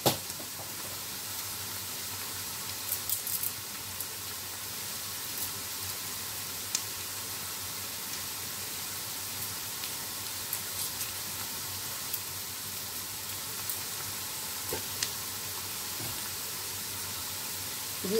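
Garlic sizzling in a pot while Nigerian jollof rice is cooked, a steady, fairly quiet frying hiss that runs unbroken with occasional faint crackles and no talking.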